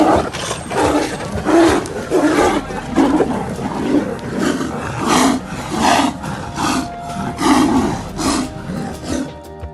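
A Royal Bengal tiger roars repeatedly in the wild, a series of loud, deep, rhythmic bursts close by, rising and falling for nearly ten seconds with no talk over them.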